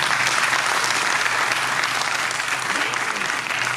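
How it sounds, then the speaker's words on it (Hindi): Steady, dense applause from an audience welcoming a Hindi professor at a literature festival event, continuous and full for the whole stretch with no pauses. "सर का भी तालियों के साथ स्वागत है।"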